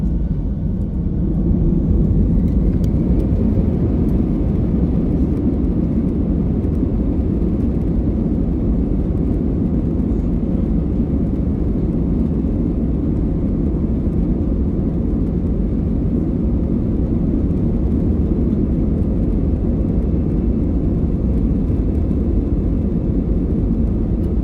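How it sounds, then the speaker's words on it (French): Airliner engines roaring steadily through a takeoff roll and climb, heard from inside the cabin as a loud, constant low rumble and whir with no break. "au moment du décollage, je vous laisse le son parce que j'adore la poussée"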